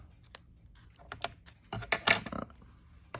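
Paper trimmed off the edge of a handmade journal signature, a run of quick crisp cuts and rustles that build to a denser cluster in the middle, close and fairly quiet with no talk.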